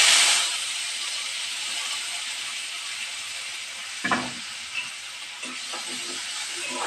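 Onion, green chilli and tomato fry in hot oil, a bright steady sizzle that flares at the start and later gives way to a few stirring knocks and scrapes.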